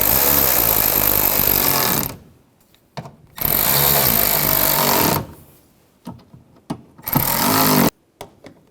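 A power tool drives bolts on the driver's side door latch of a 2006-2010 Volkswagen Jetta, whirring loudly in three separate bursts of a couple of seconds each, split by short pauses and small clicks.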